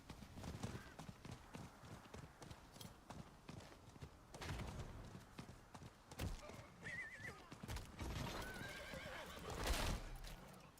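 A horse whinnies while hooves clip-clop steadily, with game-style effects and faint voices underneath, all at fairly low volume.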